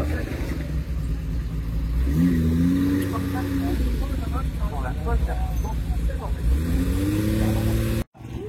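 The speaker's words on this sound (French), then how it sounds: "Et là, il roule avec une Mustang." A Ford Mustang driving at a Tour Auto 2024 classic car rally parc fermé in Carcassonne, engine rumbling and rising in pitch with two audible revving pulls, close and loud, with voices in the background.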